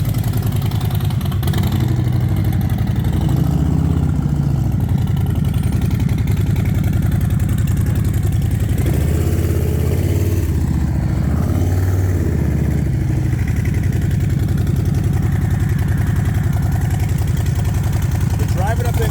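A Harley motorcycle engine idles and revs as the bike drives up onto a tow trailer, rumbling loud and close with throttle swells while people talk over it.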